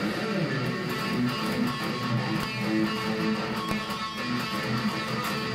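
A distorted electric guitar plays a busy, repeating riff, steady and loud throughout, with no voices.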